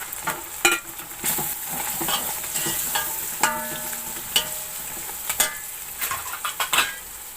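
Lemons and packaged biryani masala fried and stirred in a cooking pot, a continuous sizzle punctuated by repeated metallic clanks and scrapes of a spoon against the pot, with no voices.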